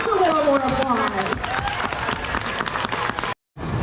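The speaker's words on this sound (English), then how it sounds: "Ladies and gentlemen, I think she wants a little more applause" Outdoor audience applause at Hersheypark's boardwalk for a performer named Coco, a spread of claps and cheers under voices, thinning out and briefly cutting to silence near the end.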